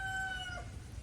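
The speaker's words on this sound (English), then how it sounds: "You can hear my rooster going off." A rooster crows, its long drawn-out call held steady then dropping away at the end, faint and at some distance over low background rumble.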